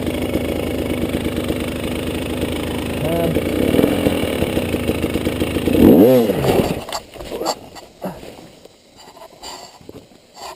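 A 2019 KTM 300 TPI two-stroke dirt bike idles, then revs sharply for a wheelie turn around the six-second mark before dropping away, leaving quieter rustling and footsteps.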